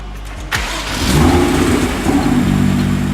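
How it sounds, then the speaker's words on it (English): A BMW car engine cranks briefly, catches, and revs up before settling into a steady idle, close and fairly loud. "we're going to start the engine"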